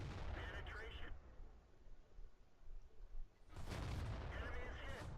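Gunfire in a video game comes as two heavy, booming blasts with rumbling tails, separated by a few seconds of quieter background.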